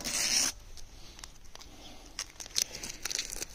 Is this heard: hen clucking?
no